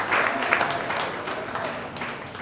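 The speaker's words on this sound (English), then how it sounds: "Another round of applause for that" Applause from an audience at a motivational talk, a short burst of clapping that starts full and gradually fades over a couple of seconds.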